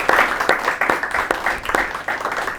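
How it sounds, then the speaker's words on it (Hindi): Church congregation applauding together in a steady wash of claps, with louder sharp bursts standing out over the crowd. "बेशक, खुदावंद के जलाल के लिए ज़ोरदार तालियों से।"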